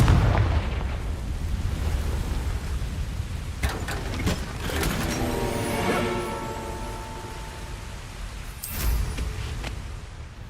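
Blasting spell explosions from a Harry Potter video game, a string of deep rumbling booms with sharp bursts near the middle and again toward the end, loud and sustained over a heavy low roar.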